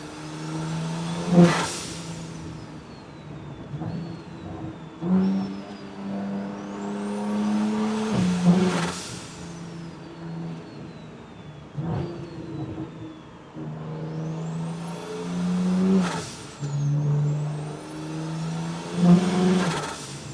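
A bagged BMW with a big turbo revs repeatedly, each rise to a high whining pitch followed by a sharp drop and a sputtering turbo release, the cycle repeating about six times, close and loud.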